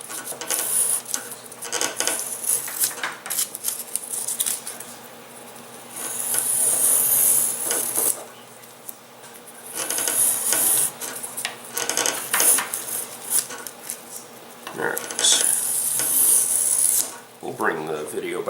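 A file rasps back and forth on a model glider wing being shaped into an airfoil, in bursts of rhythmic scraping strokes separated by brief pauses, close and moderately loud.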